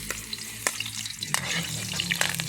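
Garlic sizzles and fries in a pan, with a soft continuous crackle and a few sharp clicks of stirring, close and fairly quiet.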